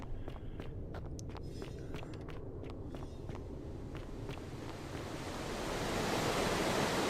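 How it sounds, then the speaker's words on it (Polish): Water pouring and splashing in a horror video game, a steady broad rush that swells louder toward the end, with soft repeated footstep-like clicks over it. "Ta woda się leje stąd,"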